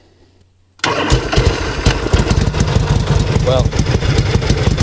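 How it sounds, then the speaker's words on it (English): A 1965 Harley-Davidson Panhead with a new starter, on half choke, cranks fast and strongly after a moment of quiet, then fires into a loud, chugging run; someone speaks briefly over it. "it did start right up, but hopefully you could hear how strong and fast that cranked."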